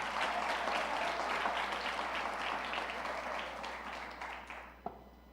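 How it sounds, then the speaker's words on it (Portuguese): A church congregation applauds during a celebration service, a dense, steady wash of many hands clapping that fades toward the end, with a sharp final clap near the close. "É para aplaudir Jesus, aplaude certo."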